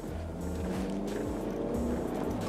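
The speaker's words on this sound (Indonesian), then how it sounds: "ini aku gasnya cuma 1/4 doang nih" A Toyota Alphard 2.4 family car accelerates at quarter throttle, a steady low engine drone with rising harmonics heard from inside the cabin, continuous and fairly loud.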